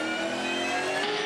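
Supercar V8 racing engine in Bathurst 1000 qualifying on the mountain circuit, a loud, sustained, steady roar held in second gear for a moment, with no talk over it.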